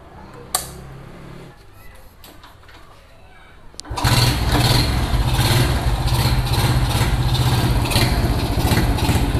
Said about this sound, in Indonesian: Sekarang udah gampang dinyalainnya, soalnya udah di servis mesinnya